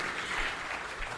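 Audience applause at an annual day of learning event: dense, steady clapping from many hands fills the moment at moderate loudness.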